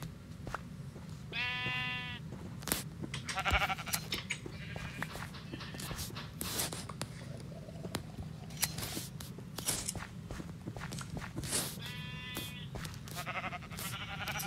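Sheep on a farm at shearing time bleat several times, each call loud and wavering, spread across a busy stretch of shuffling and rustling nearby.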